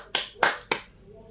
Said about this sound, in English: Give applause to Buddhist group.